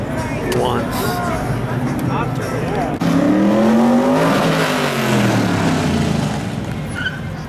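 Old cars rolling in the Hot August Nights parade in Reno, engines rumbling and one revving loudly up and down close by, with voices talking over the steady motor noise.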